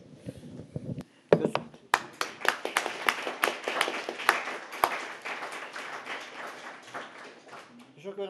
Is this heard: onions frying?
no